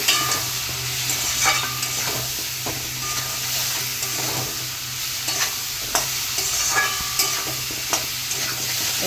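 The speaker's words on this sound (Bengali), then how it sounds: "স্বাদ মতো লবণ দিয়ে দেবো পরিমাণ মতো হলুদ দিয়ে আরও একটু ভেজে নেবো" Pumpkin fries in oil with salt and turmeric for a hilsa curry, giving a steady, close sizzle punctuated by repeated spatula stirs and scrapes throughout.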